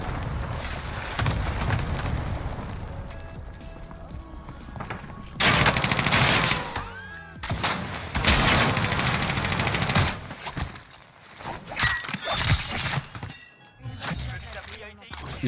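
Gunfire from the new Vargo gun in the video game Warzone, loud rapid bursts of shots in several volleys with gaps between, mixed with game noise and people talking.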